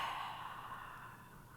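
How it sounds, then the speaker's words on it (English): A single full breath out during a yoga session, a soft airy exhale that fades gradually, close and quiet with no talking. "when you're ready, nice full breath out"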